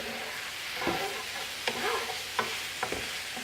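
Mushrooms cook in a pan for a creamy chicken fettuccine, giving a soft, low sizzle broken by a few sharp clicks and scrapes of stirring, close and fairly quiet with no talking.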